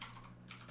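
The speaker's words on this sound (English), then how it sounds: "let me start typing here" Faint, soft keystrokes on a computer keyboard, a few light clicks spaced across a brief moment in a quiet room.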